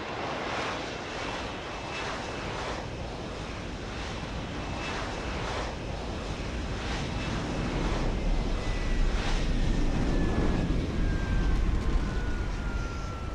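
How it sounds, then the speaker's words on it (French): A helicopter in the video game Deus Ex: Human Revolution comes in to land on a helipad, its steady engine and rotor roar filling the scene and growing slightly louder toward the end. "Saleté d'hélico."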